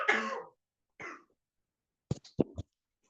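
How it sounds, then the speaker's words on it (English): A person coughing and clearing the throat, a rough throat-clearing burst followed by a softer one, then a quick cluster of three short, sharp coughs, close and alone in otherwise silent surroundings. "I'm going to take a minute and cough briefly."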